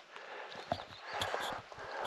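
Hooves of several horses roaming loose on a hazy high-altitude ridge near the India–Nepal border, clopping unevenly at close range in short irregular steps, with a soft snort and outdoor ambience throughout.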